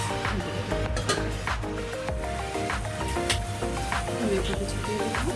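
Mixed vegetables cooking with spices in a pan for a village-style mixed vegetable curry give off a steady sizzle with occasional scraping stirs, while a person talks over the cooking.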